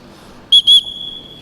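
Two short, shrill blasts on a whistle used in bird training, close and loud, with a brief gap between them. A faint steady tone lingers afterward over quiet background noise.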